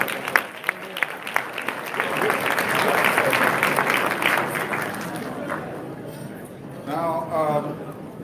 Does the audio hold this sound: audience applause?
yes